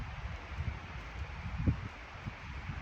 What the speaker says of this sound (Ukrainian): Дуже сильний вітер піднявся